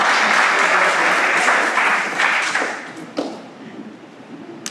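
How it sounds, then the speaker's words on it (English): A church congregation on Emancipation Sunday gives a round of applause, a loud burst of many clapping hands that fades after a couple of seconds into scattered claps and a few taps. "Give Helen a round of applause."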